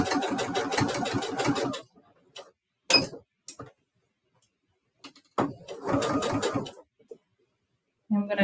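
A sewing machine stitches around a fabric flamingo beak in short close bursts of rapid rhythmic needle clatter, separated by pauses and small clicks as the fabric is pivoted.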